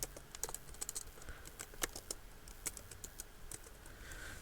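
Keys clack in quick irregular bursts on a computer keyboard while typing a command to list saved Wi-Fi credentials, close and fairly soft, with no talking.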